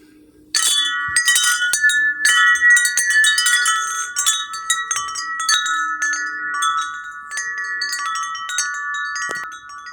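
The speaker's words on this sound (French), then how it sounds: "le carillon va faire un bruit." Metal tubes of a garden wind chime ring out in clear, overlapping tones, struck repeatedly at irregular intervals with long sustained resonance in a quiet setting.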